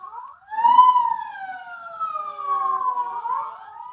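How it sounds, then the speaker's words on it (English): A police siren wails in long rising and falling sweeps, clear and moderately loud, with no other sounds around it. "Sirens, state police,"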